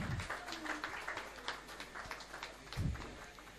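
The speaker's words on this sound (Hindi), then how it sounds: "आप लोग तालियों से इनका इस्तकबाल कीजिए।" A mushaira audience in Bhiwandi gives a poet a welcoming round of applause, faint, scattered clapping heard from a distance over low background noise.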